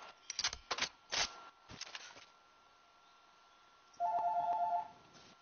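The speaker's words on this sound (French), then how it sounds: "Téléphone." A telephone rings with a short trilling electronic tone near the end, after a few clicks and knocks, while a Fortnite game session carries on.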